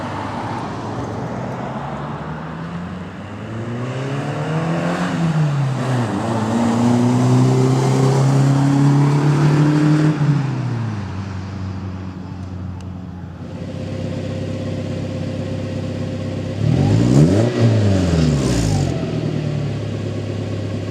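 A Toyota Tacoma pickup engine with a Thrush glasspack exhaust revs up and down several times with a throaty, rumbling exhaust, steady road noise underneath and no voices.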